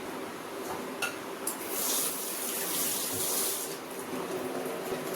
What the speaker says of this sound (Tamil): ஃபஸ்ட்டு புளியை தண்ணி ஊற்றி நல்லா அலசி அந்த தண்ணியை கீழே ஊற்றிடலாம்.